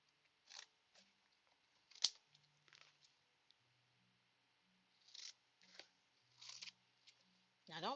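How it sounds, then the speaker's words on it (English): Paper sheets are trimmed in a craft room, with a handful of short, crisp snips and slicing strokes spread apart, quiet and close, plus light handling clicks between them. "And I'm just going to trim this down."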